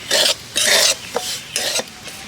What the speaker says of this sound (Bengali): তো সুজিটাকে এখন নেড়ে চেড়ে ভেজে নেব